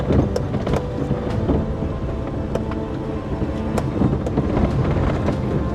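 The suspension of a Maruti Alto car rattles and thumps over a rough road in a continuous rumbling drone, with repeated sharp knocks and bangs scattered throughout and no talking.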